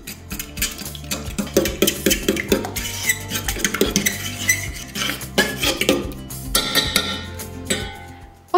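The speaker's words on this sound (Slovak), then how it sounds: "Túto zmes dobre rozmiešame do hladka." A spoon stirs 225 g of sourdough starter with 240 g of cold water in a bowl for pizza dough, making steady, close clinks and scrapes against the bowl in a busy, uneven rhythm with no talking.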